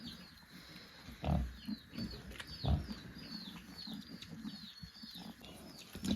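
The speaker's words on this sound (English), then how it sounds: "Literally little pigs. They just want to eat." Newborn KuneKune piglets grunt and squeal while feeding, with several small voices overlapping in soft, irregular bursts and a few louder grunts standing out.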